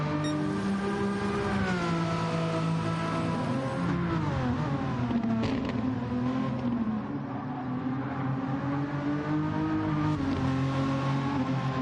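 Renault race car engine in a Gr4 racing video game, a steady harmonic drone that sweeps up and down in pitch as the car accelerates and shifts, loud and continuous with no talk.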